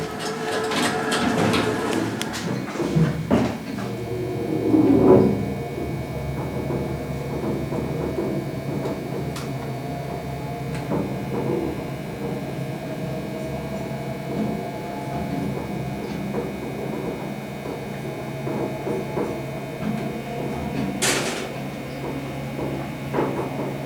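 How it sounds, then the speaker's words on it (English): A newer Westbrook service elevator motor at the Omni Homestead in Hot Springs, VA runs with a steady mechanical hum and drone, some clunks and rattles near the start and a sharp click around twenty seconds in. "we're going to go up to 4 and let's listen to the motor"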